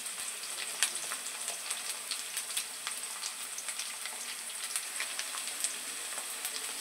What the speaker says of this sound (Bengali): আলুটা ভালো করে ভেজে নেব। আলুটা আগে ভেজে নেব, তারপরে মশলা দিয়ে কষিয়ে নেব।